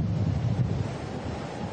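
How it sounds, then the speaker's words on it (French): Strong force-10 wind at sea, with gusts over 150 km/h, buffets the microphone during a storm, a loud low rumbling roar with gusty surges over the surf. "Le vent s'est levé comme un seul homme."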